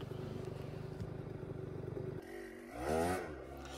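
A dirt bike engine labouring on a forest trail hill climb, a steady buzzing drone that drops off, then rises in a brief revving surge, moderately distant.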